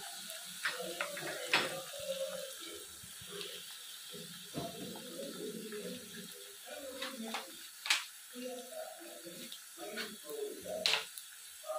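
Curry leaves sauté in hot oil for a lemon pickle, a close, crackling sizzle with scattered sharp pops and spits that rise and fall over about twelve seconds.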